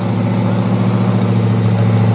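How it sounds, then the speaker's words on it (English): A 1950 Chevrolet 3100 pickup with a crate motor and dual exhaust idles close by, a loud, steady, even rumble with no voices. "Dual exhaust going all the way out the back."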